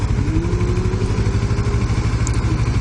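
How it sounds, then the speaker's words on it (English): A motorcycle with a debaffled stock dual exhaust idles nearby in a steady, fairly quiet, throbbing rumble, with no voices. "I think it's a stock exhaust, but just debaffled."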